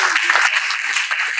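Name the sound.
audience applause for women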